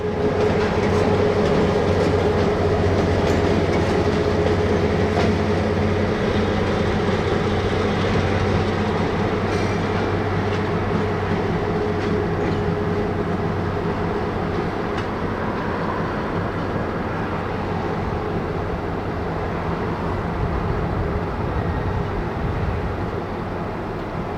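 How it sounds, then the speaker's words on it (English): An NX-12 freight train heading back east to tie onto a cut of shoved-aside freight cars gives a steady, loud rumble of rolling rail cars with faint clickety-clack, continuous throughout with no talk. "the NX-12 heads back east to the southbound train, where they'll tie onto the first cut of cars that were shoved aside"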